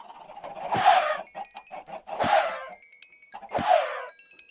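Three bursts of Minecraft chicken clucking spaced about a second and a half apart, fairly close and clear with a synthetic, game-like quality.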